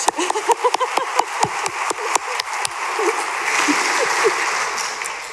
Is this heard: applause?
yes